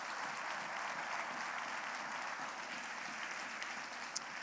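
Steady, dense applause from a church congregation, continuous and fairly even for the whole stretch with no voices standing out.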